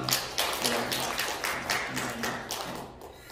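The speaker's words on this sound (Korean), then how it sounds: "우리 박수로 환영하겠습니다" A Korean Sunday church congregation claps to welcome a returning member, a run of distinct, fairly rhythmic hand claps standing out over a low background hum, close and steady before slowing near the end.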